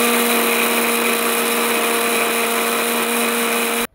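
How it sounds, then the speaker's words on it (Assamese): A kitchen mixer grinder whirs loudly and steadily, pulverising mustard, onion, chilli, garlic and ginger into a paste, its motor holding a constant droning pitch for about four seconds before cutting off abruptly. "সৰিয়হ, পিয়াজ, জলকীয়া, নহৰু, আদা গোটেইখিনি দি পেলাই মিক্সিত বাটি লৈছে"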